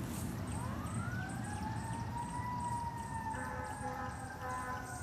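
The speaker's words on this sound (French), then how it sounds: "Oh, ça s'en vient par ici, les amis, les sirènes." Emergency vehicle sirens rise and hold in a steady wail outdoors, sounding moderately distant as they approach, over a constant rumble of background noise.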